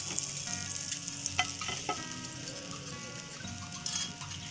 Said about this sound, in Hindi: अब इसे ब्रेड को सेक लेना है